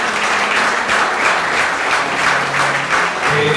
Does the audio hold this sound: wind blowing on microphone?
no